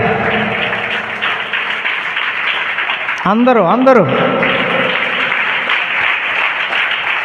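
A church congregation claps loudly in a sustained, dense burst that runs throughout, while a voice briefly calls out over the applause partway through.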